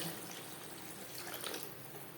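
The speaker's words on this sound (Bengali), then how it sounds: "মশলার সাথে আলু তিন চার মিনিট নাড়াচাড়া করে নেওয়ার পর দিয়ে দেব জল" Water pours into a pan of potatoes and spices for a silver carp fish curry, a faint, steady splashing rush with no voice over it.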